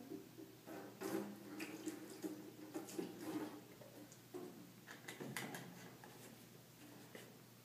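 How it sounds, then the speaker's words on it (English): Rubbing alcohol pours into a large bottle in a soft, steady liquid trickle with faint splashing, fairly quiet and with no voices. "So first we're going to put around 1 centimeter of alcohol."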